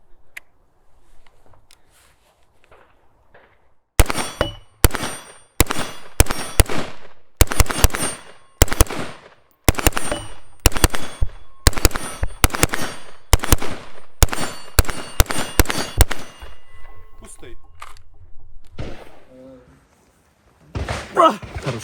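Sharp shots from a Heckler & Koch MR223 rifle fired in quick succession, some rapid bursts and single cracks, loud and close, with short pauses and a few voices talking between volleys.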